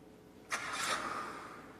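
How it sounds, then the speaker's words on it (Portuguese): A Hyundai HB20 2022 engine starts remotely with a brief cranking burst, then settles into a quiet idle. "Ele faz até um barulho indicando a partida do motor."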